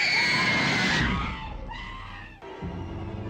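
Elevator riders caught by a prank scream loudly and shrilly, the panicked cries filling most of the moment before fading into more broken, shaky screams.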